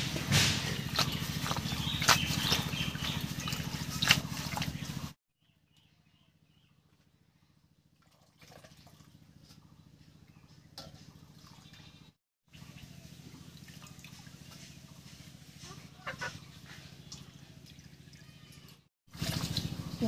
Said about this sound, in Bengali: দুই তিনবার জল পাল্টে পাল্টে পরিষ্কার করে ধুয়ে নিলাম